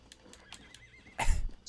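In the Red Dead Redemption video game, a horse gives a clear, close whinny alongside rhythmic hoof clip-clops, ending with a louder burst of movement.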